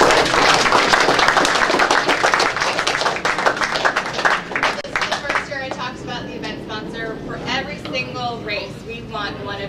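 Audience applause at the DJSA 2014 season awards pre-ceremony, dense clapping filling the room before it thins and a voice starts speaking.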